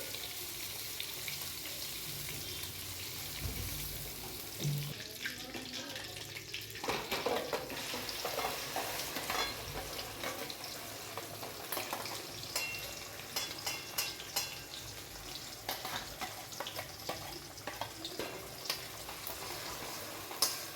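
Beef fat fries in a pan on a home stove before onions go in, a continuous hissing sizzle broken by irregular scraping and clattering from stirring, with a louder sputter early on.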